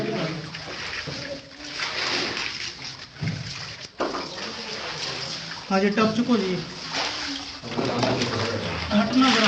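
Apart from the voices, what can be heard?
water splashed during ritual washing at shrine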